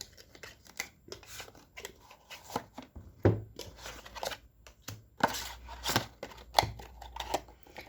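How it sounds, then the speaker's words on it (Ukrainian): A deck of cards is shuffled for a tarot reading: soft riffling and sliding bursts, some sharp card snaps, quiet and close, with brief pauses between handfuls. "Давайте поміняємо колоду."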